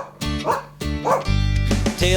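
A dog gives several quick, loud, close yips and barks in a rapid sequence, each short and sharp.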